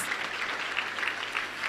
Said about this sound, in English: Give him a round of